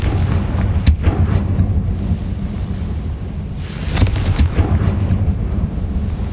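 Bombarda and Confringo blast spells in the Hogwarts Legacy video game, heavy booming explosive impacts at intervals over a constant rumbling game soundscape.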